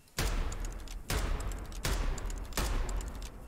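Gunshots fired in the Choo Choo Charles video game, four loud booming shots spaced about three quarters of a second apart, each leaving a dense roaring tail that fills the gaps.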